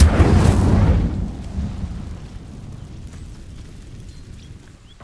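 Incendio fire spell cast in the Hogwarts Legacy video game, a loud explosive burst at the start that rolls into a fading, rumbling roar and dies away to a faint low hum.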